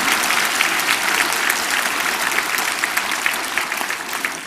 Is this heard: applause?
yes